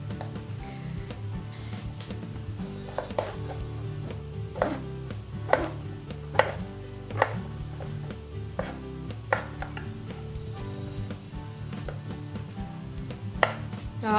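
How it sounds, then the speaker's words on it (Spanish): A knife slices mushrooms into fairly large strips on a cutting board, producing a series of sharp, irregular chopping knocks spread over about fourteen seconds, close and clear with no talking. "La vamos a cortar en tiras un poco grandes."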